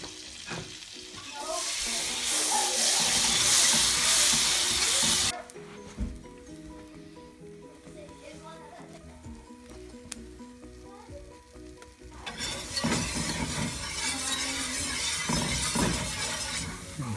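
Flour stirred into melted grease for a country gravy roux sizzles loudly in the pan, with scraping and clinks during a quieter middle stretch before the frying hiss swells strongly again.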